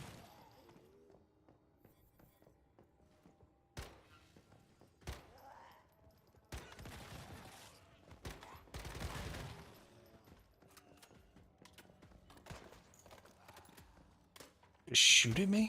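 Enemy gunfire in the Once Human game: scattered sharp shots and a short burst against a quiet background, ending in a loud impact, with a voice talking faintly underneath.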